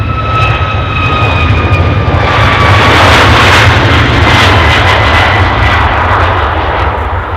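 A jet airliner departs Edinburgh for Palermo with a loud, close engine roar and whining tones that swell and hold steady, then fade slightly toward the end, with no voices over it.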